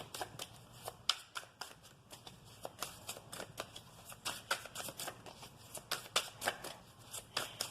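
A deck of oracle cards being shuffled by hand, close and quiet, in quick repeated riffling bursts with short pauses between.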